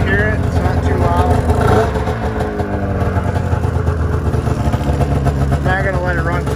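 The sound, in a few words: F7 engine running with newly installed MBRP exhaust can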